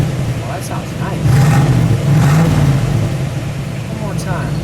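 A 1961 Chevrolet Corvette convertible with dual exhaust idles nearby and then gets a brief rev that swells and settles back, with people talking over it.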